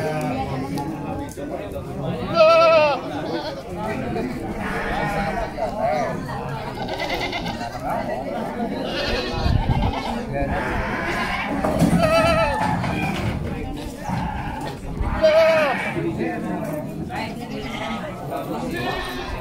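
Goats bleat several times at an Indonesian livestock market, short wavering calls rising over steady crowd chatter and background market noise, with people talking throughout.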